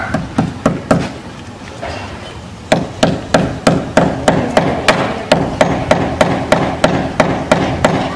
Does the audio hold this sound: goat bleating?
no